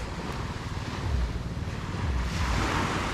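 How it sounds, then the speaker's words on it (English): Waves of the Sulu Sea off Antique in the Philippines wash onto the shore in a continuous surf roar, swelling slightly midway, with heavy wind buffeting the microphone and no voices. "this is the Sulu Sea"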